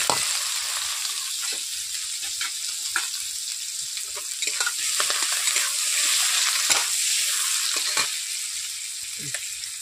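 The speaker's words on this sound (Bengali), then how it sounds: "এরপর এখন দিয়ে দিচ্ছি পেঁয়াজ কুচো।" Chopped onion sizzling in hot oil with whole cumin seeds, a steady bright frying hiss with scattered spatters and occasional stirring clicks, close and continuous without speech.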